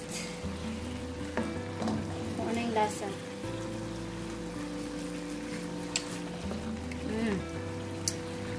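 Chicken bistek sauce simmers in a pan with soft, steady sizzling and bubbling, a few light clinks of stirring, under quiet background hum.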